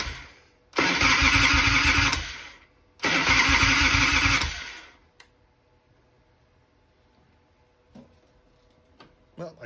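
Starter motor on a 1993 Harley-Davidson FLHTC motorcycle cranking in two loud, close bursts of about two seconds each, followed by quiet with a few faint clicks and knocks.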